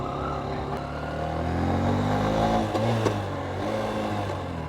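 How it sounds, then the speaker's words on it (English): A Honda CB125F motorcycle with a 120cc fuel-injected engine climbs a driveway, its steady mid-pitched engine drone rising and falling as the rider slips gears, with brief surges in revs. "That was me slipping gears"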